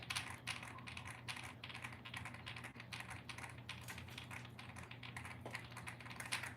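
Steady rapid clacking of a homemade custom mechanical keyboard, close and quiet, with even, continuous keystrokes and no talking.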